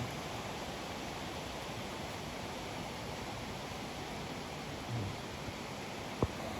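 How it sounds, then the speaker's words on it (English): Steady, even rush of a river flowing, a constant broadband hiss with no breaks, at a forest campsite. A faint click stands out near the end. "I like the sound of this river."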